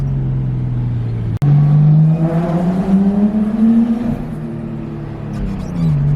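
A Nissan Skyline R33 engine drones from inside the cabin, rising and falling in pitch as the car accelerates and shifts, with no one speaking.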